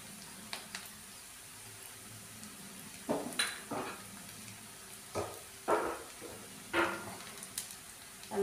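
Onion is stirred as it fries to brown in a pan, under a faint low sizzle, with a spatula scraping and tapping the metal in short, intermittent strokes, quiet and close.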